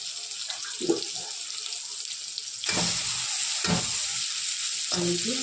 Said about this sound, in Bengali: বেগুনটা ভেজে নিচ্ছি।